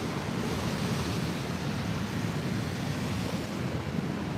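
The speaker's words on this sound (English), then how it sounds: "those waves are breaking over the top again" Large ocean waves break over the top at a stretch of coast at Fingal, a constant loud roar of surf mixed with heavy wind buffeting the microphone, with no talk.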